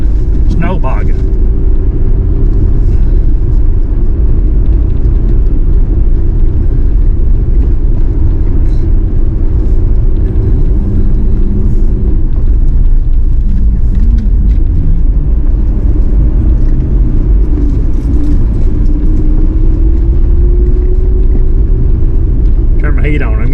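A vehicle rolls along a snowy mountain road between Hurricane Gap, Tennessee and Tanyard Gap near Hot Springs, North Carolina, with a loud, constant engine-and-tire rumble filling the cabin throughout and someone talking over it.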